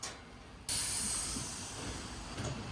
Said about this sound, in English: We have to have the compressor on because our crush runs on air.